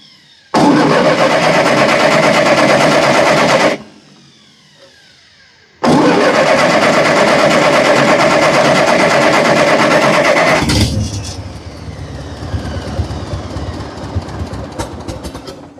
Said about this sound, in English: We got ourselves a tractor.